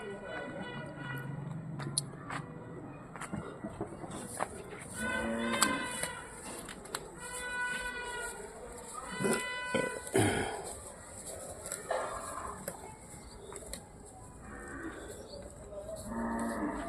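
A male buffalo bull for sale in Junagadh gives several loud, drawn-out moos with strong harmonic tones, one after another, while people talk at a distance.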